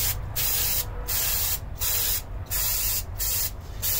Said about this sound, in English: Just gonna quickly spray it off.